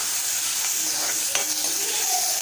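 A tempering of ginger, green chillies and curry leaves fries in hot oil, giving a steady, close, dense sizzle with a few sharp crackles, and no voices.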